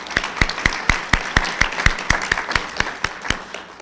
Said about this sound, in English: let's give a round of applause for Charlie.